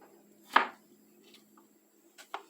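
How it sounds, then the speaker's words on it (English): Knife slicing vegetables on a cutting board, a few distinct close chops spaced irregularly in a quiet kitchen, one sharper cut followed by softer taps. "And then I'll just start slicing them."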